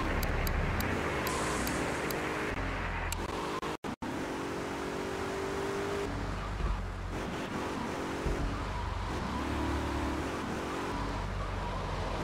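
Car engine driving through traffic in GTA III, a fixed-up junk heap chauffeuring through the city, a steady engine drone with shifting revs and road noise throughout and a brief dropout near four seconds.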